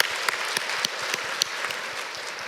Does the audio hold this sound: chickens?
no